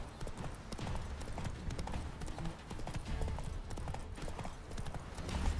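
Horse hooves clip-clopping at a steady riding rhythm in The Witcher 3, a continuous quiet patter over low ambient game sound with no talking.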